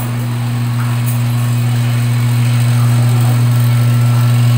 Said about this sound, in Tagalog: kailangan nyo po siyang i-on para mag-start yung motor niya